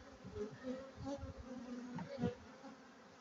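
Honeybees buzz close by in a steady, fluctuating drone, several insects humming at once with slight swells in pitch and loudness, as a hive is packed down in autumn.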